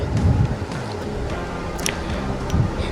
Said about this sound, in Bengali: দেখো এখানে মুগ ডাল থেকে কতটা পরিমাণে নোংরা জল বেরোচ্ছে।